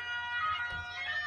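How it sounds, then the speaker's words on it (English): A dense, bright electronic alarm tone sounds continuously, buzzing and harsh, with a faint low thump partway through. "That, that's my alarm."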